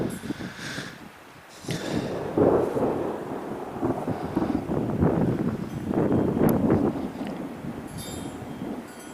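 Low thunder rolls and rumbles from an approaching mountain thunderstorm during a motorcycle ride near Mt St Helens on an Iron 883, long swelling waves with wind buffeting and faint rain, no talk.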